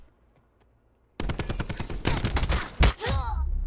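Rapid gunfire in Call of Duty Black Ops 4, a Search and Destroy match on the Firing Range map, breaks a near silence with a dense burst of repeated shots, continuing loud and steady for over two seconds.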